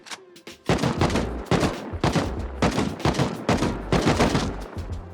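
Gunshots are fired at a bunker in the survival video game Rust: a rapid series of loud, close, booming shots in uneven bursts, with short gaps between volleys.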